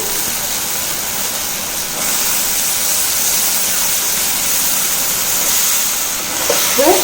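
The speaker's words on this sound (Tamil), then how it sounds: "கத்திரிக்காயை ஒரு ரெண்டு நிமிஷம் எண்ணெயில் நல்லா வதக்கி விட்டுக்கலாங்க" Small cut brinjal pieces sauté in oil for a poriyal, giving a loud, even hissing sizzle that holds steady, with faint stirring touches near the end and no voices.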